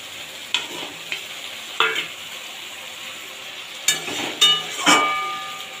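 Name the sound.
poa bhola fish sizzling as it is added to hot oil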